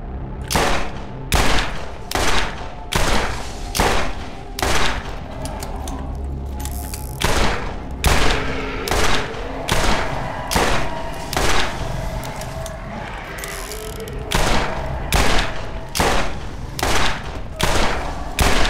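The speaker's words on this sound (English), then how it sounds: "Shotgun for backup." Shotgun blasts in Borderlands, with heavy booming shots fired at a steady, evenly spaced rhythm over almost twenty seconds, loud and close, with a constant game backdrop beneath.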